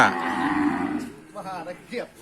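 A cow at a cattle market gives a long, loud, close moo, followed by a couple of shorter, fainter calls from cattle.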